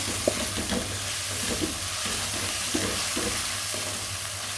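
Chopped tomato goes into a gobi gosht curry of cauliflower and meat in a pan, giving a steady nearby sizzle with repeated light scraping stir strokes over a low background hum.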